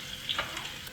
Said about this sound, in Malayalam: സെയിം എണ്ണയിലോട്ട് തന്നെ നമുക്ക് ഉള്ളി ഇട്ട് വറുത്തെടുക്കാം.